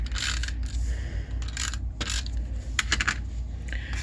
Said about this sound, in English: So I'm just going to quick put some tape on here.